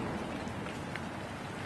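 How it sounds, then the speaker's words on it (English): Dense, steady rain from a rain machine pours down in a continuous, even hiss with no breaks. "It's like the rain machine. Here it comes."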